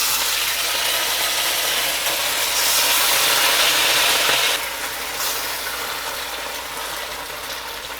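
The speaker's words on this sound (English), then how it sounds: "And I'm going to fry mine up in batches." Chicken fries in a small pan of canola and sesame oil, a continuous close sizzling hiss that swells briefly midway, then settles slightly quieter, with no voices.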